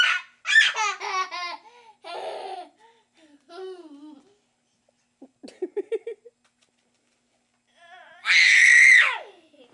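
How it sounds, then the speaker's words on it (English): A baby boy squeals, babbles and giggles close by, then lets out a loud, piercing scream near the end after a stretch of near-quiet. "You're still screaming too loud."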